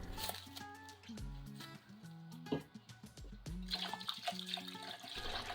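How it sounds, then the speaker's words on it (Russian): Hot tap water runs onto a dirty frying pan soaking in a baking soda solution, a steady splashing flow with drips, faint beneath music. "и доливаю воду. Она должна полностью покрыть сковородку."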